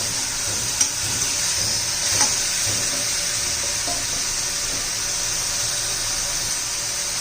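Spinach chutney ingredients with salt are sautéed in a pan, giving a steady close sizzle with soft stirring scrapes and a couple of brief clinks, no talking.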